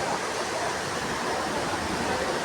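Floodwater rushes through a flooded street during heavy rain, a dense, continuous roar of water that stays steady and fairly loud from start to finish, with no talking.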